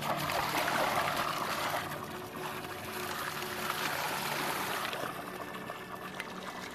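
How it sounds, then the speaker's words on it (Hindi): Natural spring water flows out in the mountains, a close, continuous trickling and gurgling stream with no voices. "तो इस तरह से ये पानी यहाँ पर निकलता है"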